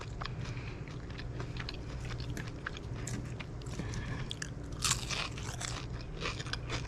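Crispy fish-and-chip fries bitten and chewed up close, a run of sharp crunches and crackles over a low background hum, with a louder crunch near the end.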